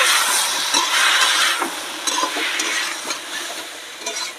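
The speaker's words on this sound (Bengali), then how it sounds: "এই যে আমি জিরে আর লঙ্কাটা ভালো করে কষিয়ে নেব" Cumin and chili paste sizzling loudly in a hot pan, a steady bright frying hiss with occasional stirring scrapes, fading slightly toward the end; no one speaks.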